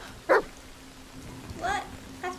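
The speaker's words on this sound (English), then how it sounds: "That's my dog." A dog gives a few sharp barks near a toolshed, spaced apart over faint rain-like background noise.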